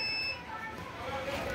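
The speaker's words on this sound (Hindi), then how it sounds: "जब कॉइन एक्सेप्ट कर लेगा वो बीप साउंड देते रहेगा" A coin-operated water ATM emits a steady electronic beep tone after accepting a coin, fairly faint and continuous under someone speaking.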